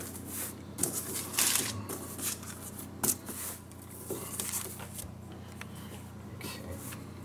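Very soft pizza dough made with cake flour is pressed and shaped on oven paper, giving close, intermittent sticky squishes, pats and paper crinkles at an uneven rhythm, with no voice over them.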